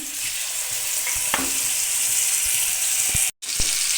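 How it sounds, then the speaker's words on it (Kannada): Pieces of fish for a village-style masala fish curry frying in oil on a tawa, a loud steady hiss of sizzling with a few small clicks and a brief cut to silence near the end. "ಇವಾಗ ಎರಡು ಸೈಡು ಸ್ವಲ್ಪ ಫ್ರೈ ಮಾಡ್ಕೊಂಡಿರೋಣ"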